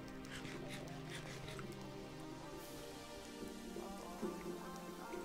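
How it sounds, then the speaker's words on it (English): Steady rain in a hardcore survival game patters over a layered backdrop of droning in-game tones and music, with a few brief louder knocks near the end. "Oh no, it's raining."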